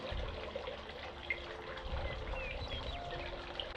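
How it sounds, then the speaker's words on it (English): Half a cup of cold water is poured into a saucepan on a stove, a faint, steady trickle and splash under low background noise. "I can add in half a cup of cold water"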